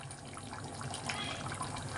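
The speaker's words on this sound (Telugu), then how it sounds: "ఒక గ్లాసు వాటర్ వేసుకుని" A glass of water pours into a pot of mutton and chana dal curry, a steady close splashing gush for about two seconds with no talk.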